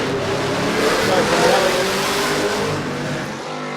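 A race car at an autosprint accelerates hard off the start line, giving a loud, continuous engine roar that swells and holds. Voices are faintly audible under the engine.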